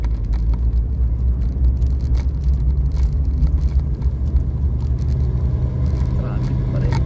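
Steady low engine rumble of a car idling and creeping in slow road traffic, continuous and close throughout, with a person talking over it at times.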